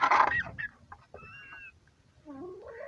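Local poultry birds clucking in short, close bursts, with a louder cluck at the start and a rising, drawn-out call near the end.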